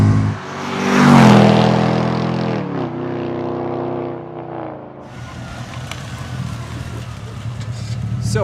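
A Mercedes B55 AMG, an engine-swapped B-Class, accelerates hard with ESP off. Its engine note rises loud and close, then eases back, and road and wind roar carry on beneath, with a voice whooping briefly over it.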